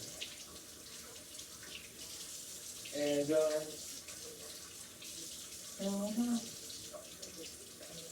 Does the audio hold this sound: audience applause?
no